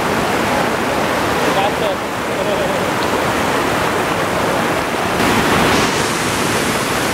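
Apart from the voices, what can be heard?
waterfall and natural pool, Siquijor Island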